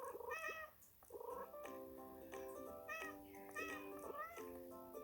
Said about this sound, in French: on a des petits chats trop mignons qui sont là